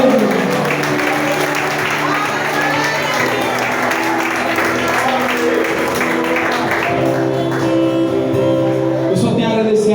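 Church congregation applauding during a family worship service, a broad roar of clapping and cheering mixed with sustained musical tones and voices, loud and continuous throughout.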